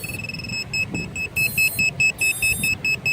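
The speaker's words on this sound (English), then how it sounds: "So the buzzer's working apparently" A Tarot 130 mini drone's electronic buzzer gives a series of short, shrill, evenly spaced beeps, close and loud against a low background hum.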